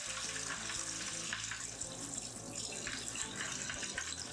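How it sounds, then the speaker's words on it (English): Corned beef brine concentrate pours into a container holding a brisket flat and point, a steady close splashing and trickling wash of liquid running throughout with no talk. "I'm going to put the rest of my concentrate in here"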